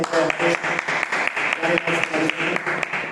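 An audience at a closing event gives a burst of applause, pulsing clapping heard alongside a voice speaking over it.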